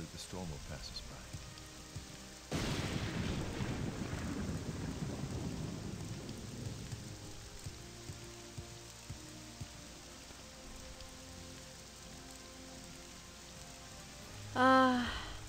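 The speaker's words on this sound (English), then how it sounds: "Hopefully the storm will pass us by." A sudden crack of thunder rolls into steady rainfall in The Elder Scrolls III: Morrowind, with a low rumble fading beneath the hiss of rain and a brief tonal chime near the end.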